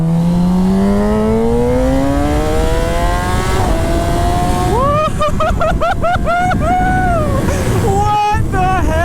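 A 2017 Kawasaki ZX10r motorcycle accelerates hard while being ridden, its engine note climbing steadily, then rising in quick repeated surges through gear changes, loud and close with heavy wind rush.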